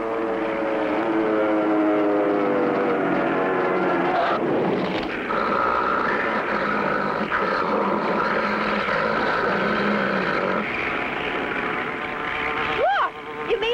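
A cartoon propeller airplane goes into a dive, its loud engine drone holding steady and then shifting pitch, with a rising whine near the end as voices talk over it.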